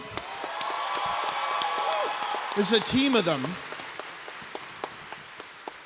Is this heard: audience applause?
yes